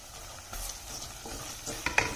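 Green chillies sauté in a pan for a meal maker biryani: a quiet, brief sizzle broken by a few soft stirring scrapes and clicks.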